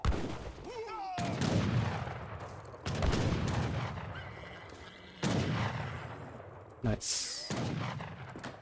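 Town centers in a real-time strategy match unleash repeated volleys of gunfire, sharp bursty blasts coming in irregular clusters, heard under a commentator's talk.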